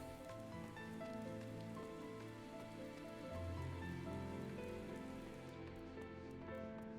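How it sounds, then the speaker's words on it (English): Steady rain patters on a surface beneath soft sustained music in the video game Final Fantasy XIV: Shadowbringers, continuous and even throughout, with no voices. "As you can see, it's still raining."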